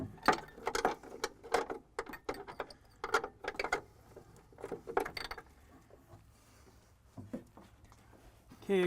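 A 1/2-inch combination wrench works a nut hidden behind the dash of a Ford Galaxie, giving a run of close, irregular metallic clicks and scrapes, a few clustered taps with short pauses between them.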